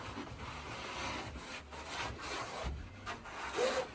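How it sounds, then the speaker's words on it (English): Sandpaper rubs over a foam mono-fin surfboard being shaped, giving soft, close, continuous scraping strokes of uneven rhythm at low volume. "now what I'm going to do is take this piece of sandpaper"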